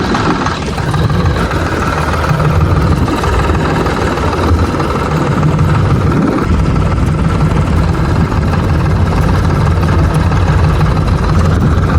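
Tractor engine running loud and close while carrying a water pump motor on a farm, a steady droning rumble that holds unbroken for the whole stretch with no talk.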